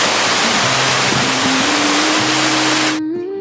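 A small waterfall on the Keu Khola in East Sikkim makes a loud, continuous rushing roar, with a low tonal hum beneath it, and then cuts off abruptly near the end.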